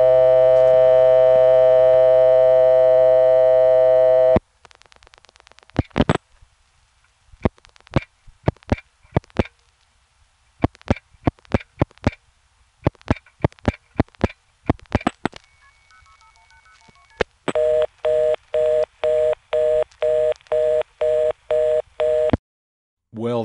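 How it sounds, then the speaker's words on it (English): On a step-by-step telephone exchange line, a steady tone gives way to a run of sharp dial pulse clicks for 0, an area code and a string of 1s. A rapid, loud on-off reorder tone then repeats until the end. "the ESC intercepted it with a reorder tone"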